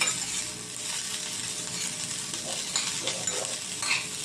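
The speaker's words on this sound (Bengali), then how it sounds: "এখন ফুলকপিগুলো আমি কিন্তু নেড়ে চেড়ে লাল করে আমি ভেজে নিলাম।" Steady sizzling of cauliflower frying in a pan, with occasional scraping and clinks of a spatula stirring it; no voices.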